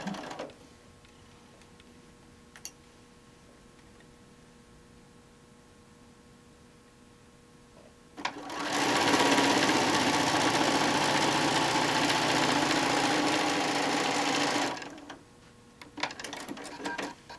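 A sewing machine stitching quilt blocks runs in one continuous whirring burst of about six seconds, close and fairly loud, with quiet handling noises before and after.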